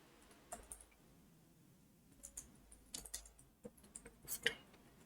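Quiet typing on a computer keyboard, irregular clusters of soft key clicks with short pauses, close and faint in a still room.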